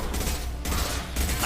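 Mass Effect 2 gunfire rattles in dense, continuous bursts, a loud wash of rapid shots and impacts with short dips between volleys and no voices.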